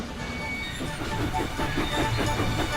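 Thomas the Tank Engine, a steam locomotive, runs along the track with rhythmic chuffing and rolling clatter, close and steady throughout, with no talking.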